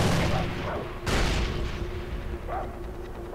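Grenades blow up in the shooter game Far Cry 4: a loud booming blast opens the moment and a second heavy explosion follows about a second later, with rumbling debris and game ambience trailing after.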